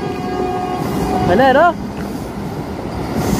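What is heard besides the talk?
Vande Bharat Express train passing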